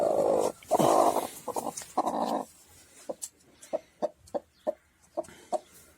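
A broody hen nesting on eggs gives a run of short, regular low clucks, close and alone, following a louder growling, grumbling outburst at the start.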